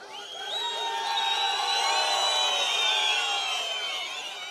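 An enthusiastic crowd at a political rally cheers and whoops loudly, many high shouts and whistles blending into a sustained roar that swells and slowly fades.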